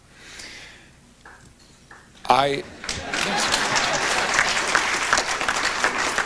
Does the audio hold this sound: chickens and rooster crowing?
no